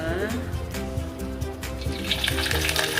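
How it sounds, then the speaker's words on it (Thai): Pork sizzling and crackling in a hot pan, a steady dense fry close by with scattered pops and a brief stir, while someone talks over it. "เดี๋ยวเราทอดหมูก่อนนะคะ"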